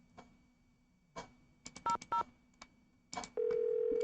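Telephone number dialed in the Nancy Drew game Danger on Deception Island: soft handset clicks and a quick pair of button tones, then a few more presses, ending in a loud steady ringing tone.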